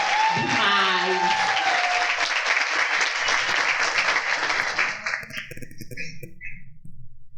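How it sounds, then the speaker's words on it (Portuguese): Audience at a health and entrepreneurship congress lecture breaking into loud, sustained applause, dense clapping close and full for about five seconds before thinning into scattered claps, with a voice speaking briefly over the start. "Uma salva de palmas mais forte que elas merecem."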